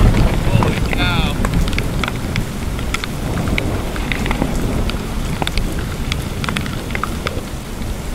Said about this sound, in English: what was once a nice day turned into a crazy pop-up hailstorm